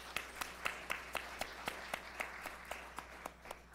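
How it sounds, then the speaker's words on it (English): An evening Proctor Day program audience gives a round of applause. The claps come faint and thin at an even, regular pace over a low steady hum, with no talking. "Please give them a round of applause."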